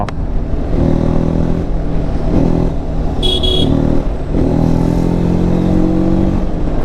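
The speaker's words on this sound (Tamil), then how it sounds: "நான் ஒரு ஜஸ்ட் ரன்னிங் பிக்கப் ட்ரை பண்ணுறேன்" A 2023 TVS Apache RTR 310 motorcycle accelerates on the road, its engine note rising through repeated pulls with steady wind and road noise, heard close from the rider's position.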